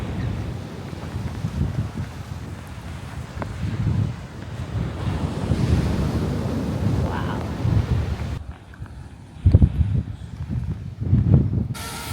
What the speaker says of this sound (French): mais là il y a du vent encore